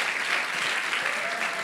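A church congregation in Lisbon claps to welcome visitors, a brief, dense and even burst of applause with no voices on top.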